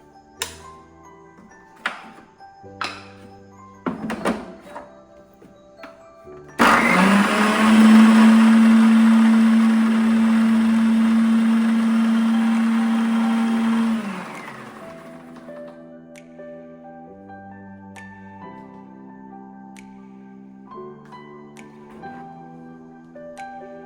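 A mixer grinder roars to life after some quiet kitchen clatter, grinding a coriander and turmeric paste, whirring loudly and steadily for about eight seconds before winding down.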